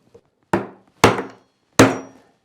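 A wooden mallet drives a wood chisel in traditional Korean lattice-window joinery, landing three sharp, loud knocks about half a second apart, each ringing briefly before fading, with a faint tap just before the first.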